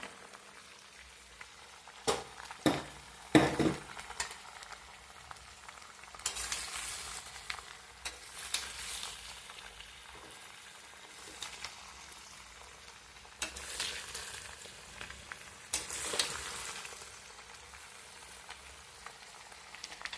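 Flat bean pickle cooking in a pan, a quiet low sizzle with occasional stirring scrapes and clinks, a few louder bursts near the start, no talking.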